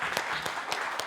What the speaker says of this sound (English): let's have a round of applause for the organizers here for setting up this wonderful show.